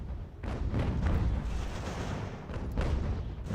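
Artillery in Ultimate General: American Revolution fires on the flank during a battle in a blizzard, a continuous low rumble of heavy booms rolling one after another, loud and close, with no talking.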